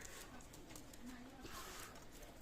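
A pair of pet pigeons coo softly and low, their faint murmuring rolling under a soft background hiss, with some indistinct voices nearby.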